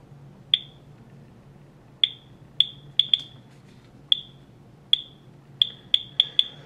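A DSM-500 digital radiation survey meter clicks through its speaker, sharp high chirps at irregular intervals, about a dozen in several seconds, against a quiet background.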